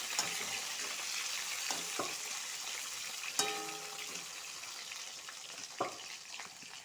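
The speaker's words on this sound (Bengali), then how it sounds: "কেটে রাখা সয়াগুলি ভালো করে ভেজবো" Chopped soy chunks fry in hot oil for a Bengali chaat recipe, giving a steady, close sizzle with a few sharp clatters from stirring. No one speaks.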